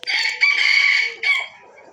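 A rooster, one of three young cockerels shown for sale in Thailand, crows loudly and close up in one long drawn-out call followed by a shorter tail, with no talking.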